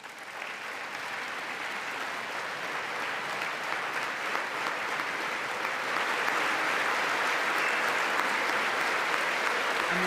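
Sustained applause fills the U.S. Congress chamber during a presidential address to a joint session, a dense, even roar of many hands clapping that holds steady for about ten seconds and swells slightly toward the end.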